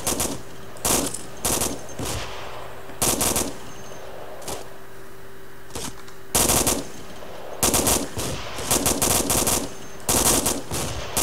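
Machine-gun and rifle fire in Arma 2 during a military realism operation, with loud bursts and rapid volleys that come in uneven clusters and leave short quiet gaps between them.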